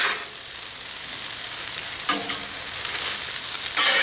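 Beef stir fry sizzling on a Blackstone griddle with a steady, close hiss. A couple of short scraping stirs break through near the middle and again at the end.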